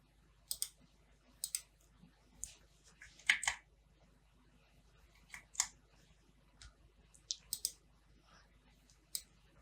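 Computer mouse clicks, close and crisp, arriving in quick pairs and singles scattered over a quiet background.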